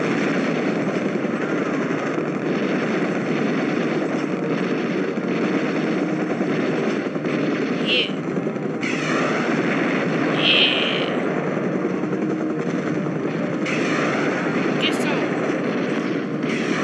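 Vietnam-era combat in the Vertical Assault Vietnam video game, with aircraft engine drone and scattered gunfire and rocket bursts over a dense, loud, continuous battle bed, with speech present.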